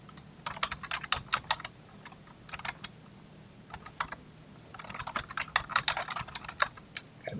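Someone types a passphrase on a laptop keyboard during a Debian Linux SSH login, with quick close key clicks in two flurries separated by a brief pause, then a final few taps.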